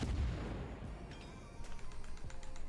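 Japanese high-explosive shell salvos slam into a warship in World of Warships, a rumbling mass of booms and crackling impacts that fades, then returns as a dense run of sharp hits.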